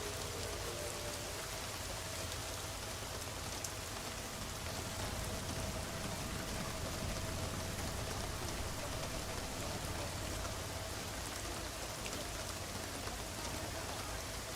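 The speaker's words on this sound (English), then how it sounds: "That rain sound is kind of loud." Steady, dense rain in the video game Deus Ex: Mankind Divided, a loud continuous hiss of drops on surfaces that stays even throughout with no other sounds.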